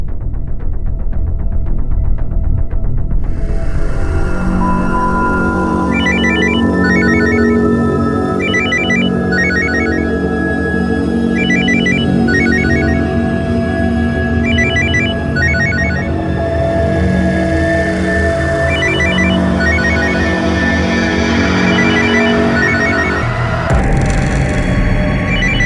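A mobile phone ringtone plays a repeating electronic melody in a quiet room for most of the stretch, loud and near, with no talking, before cutting off abruptly near the end.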